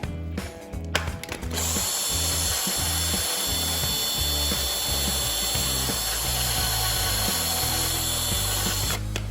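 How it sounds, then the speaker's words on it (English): A drill spinning a wire brush against BMW E36 rear brake parts, a loud continuous grinding whir with rhythmic scraping pulses, starting after a few short clunks and running steadily to the end. "I got a wired brush on a drill"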